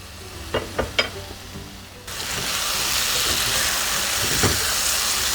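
Parwal aloo curry frying in an open pan, a steady sizzle that rises sharply partway through after a few soft clinks, continuing loud and close with no talking.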